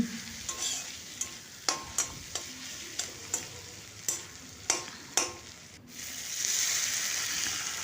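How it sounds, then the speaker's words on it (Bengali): Spices fry in a pan for egg and potato dalna, a steady sizzle punctuated by a rhythmic series of sharp scraping stirs, then a brighter hiss swells at the end. "আর অন্যান্য মশলা সব কিছুক্ষণ ভেজে নেব"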